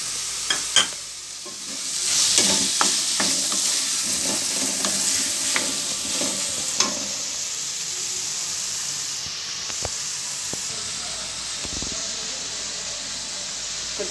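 Ginger garlic paste and tomato frying in a pan, a steady close sizzle and hiss with stirring scrapes and a few clinks, continuous throughout.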